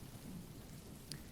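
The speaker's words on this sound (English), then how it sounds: "Back to rain noises." Soft, steady rain ambience with a low distant thunder rumble plays quietly and evenly throughout, with a single brief higher blip near the end and no talking.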